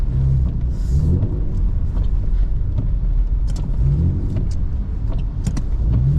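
A BMW E39 sedan driving sideways on a snowy road in a blizzard, heard from inside as a steady, loud, low engine rumble and road drone with occasional faint clicks and rattles.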